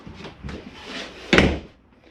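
Glass doors slide on their tracks inside a 2021 Catalina 303RKDS camper trailer, giving a few soft rumbles and then one firm knock as a panel stops, close by with no talking.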